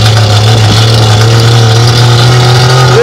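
A wooden-bodied vintage car built on Warszawa, Syrenka and Żuk parts revs its engine at a classic car rally, a loud, close, steady drone with a strong low hum and no talk.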